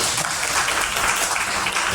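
Audience applause at a talk, a dense, steady wash of many hands clapping together, loud and continuous throughout.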